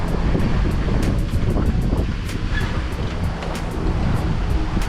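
Heavy ocean swell and wind surround a sailboat under engine off Dominica, a loud, constant roar of rushing water and buffeting wind with faint periodic clicks, no voices.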